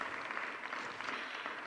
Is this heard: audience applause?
yes